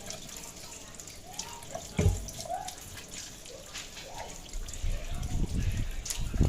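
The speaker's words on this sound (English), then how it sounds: "I'm going to wash my potatoes." Tap water runs into a sink while potatoes are washed by hand, a soft steady trickle with splashes and a swell of louder flow near the end; a voice murmurs briefly.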